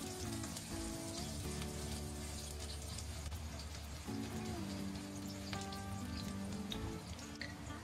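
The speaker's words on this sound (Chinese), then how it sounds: "然后再下入葱姜蒜，依然保持小火炒香" Scallions, ginger and garlic sizzle gently in oil over low heat, with a soft, continuous crackle and hiss heard faintly at close range, under quiet background music.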